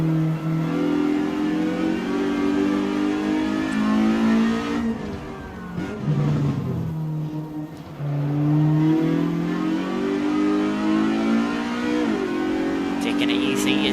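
Jide 1600 S race car in Assetto Corsa at Ahvenisto, its engine droning loudly at steady revs, dipping briefly midway with a shift and lower pitch before climbing again, continuous and close throughout.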